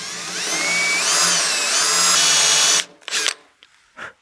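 A drill-driven pilot shaft squares the end of a pen blank on a pen-turning tool, a loud whining power-tool buzz with shifting pitch as the cutter bites, then stopping abruptly into a few short bursts.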